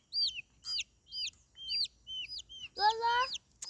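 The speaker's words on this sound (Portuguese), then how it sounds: "Ai, o pintinho. Ai, que bonitinho." Young chicks cheep in a series of bright, evenly spaced peeps, close by and fairly quiet, with a voice briefly joining in near the end.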